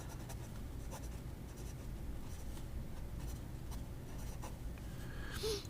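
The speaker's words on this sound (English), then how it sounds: "Jinhao 59. Let's see if it writes." A Jinhao 59 fountain pen with an inset nib scratches steadily across paper, soft and close, in short continuous strokes with brief pauses between them.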